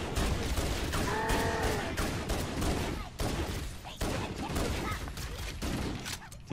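Dense, sustained gunfire from the Halo video game: overlapping rapid shots and bursts fill the clip loudly, with only brief dips between volleys.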